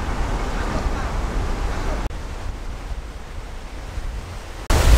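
Steady broadband surf at Playa Acapulco beach in Puerto Plata, Dominican Republic, rolls on as a continuous wash, with wind buffeting the microphone and a brief dip before a louder gust near the end.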